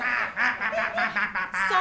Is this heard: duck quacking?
yes